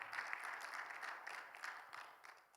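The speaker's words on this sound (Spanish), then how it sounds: "Yo le hubiera dado más fuertes aplausos al Señor" A crowd at a church Bible seminar applauds for the Lord, brisk clapping from many people that gradually thins and fades over a couple of seconds.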